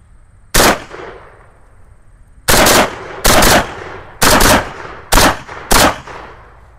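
AK-47 rifle shots ring out loud and close: one single shot, a pause, then five short bursts or shots in quick succession with echoing tails, no talking.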